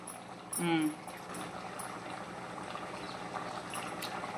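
Boti curry simmering in a pot bubbles softly and steadily at low volume, with a brief voice-like sound near the start over the gentle burble.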